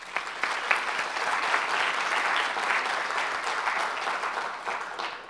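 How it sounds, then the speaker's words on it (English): An audience at an art and democracy event gives a sustained round of applause, dense and steady throughout with no talking over it. "I'd like for us all to just give them one more round of applause."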